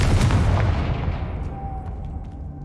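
A Confringo spell bursts in Hogwarts Legacy with a single heavy, booming explosion that hits loud at once and then rolls away into a fading rumble, while a faint tonal ring lingers beneath the decay.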